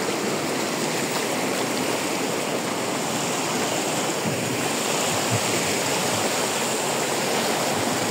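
A river flows in a continuous, even rush of water, close and fairly loud, with no voices and no change in level throughout.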